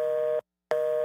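A telephone busy signal sounds two steady, loud tones separated by a short silent gap, clean and close with no voices.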